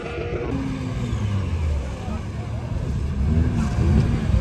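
An off-road trophy-class race car drives off on a muddy track, its engine a steady mid-distance roar that swells toward the end, with people talking over it.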